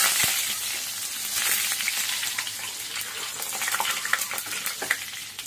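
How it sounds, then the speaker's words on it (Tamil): Mustard seeds crackling and popping in hot oil heated for tomato thokku, a dense steady sizzle with sharp spattering pops throughout, close and loud with no talk. "இது எண்ணெய் நல்லா காய்ஞ்சதுக்கப்புறம் கடுகு 2 டீ,"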